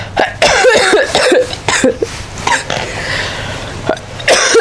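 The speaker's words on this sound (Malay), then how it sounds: "Saya batuk." Repeated harsh coughs burst out in quick succession, close and loud, spread across the whole stretch with brief pauses between fits.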